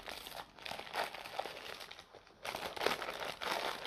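Crinkling and rustling of a paper advent calendar being opened, soft close paper crumples and tearing in short irregular bursts, with no talking.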